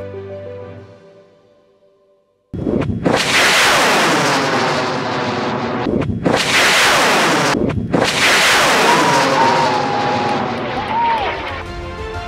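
A high-power amateur rocket, Blue Wren, launches with a sudden roaring blast that surges and rumbles loudly for about ten seconds, with brief drops, after a quiet start.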